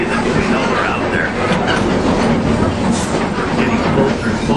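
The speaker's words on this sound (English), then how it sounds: "Here, AJ, we got another train right here." The Sugar Cane Train in Lahaina rolls past close by, a loud steady rumble with clickety-clack of wheels on rail, and a voice talks over it.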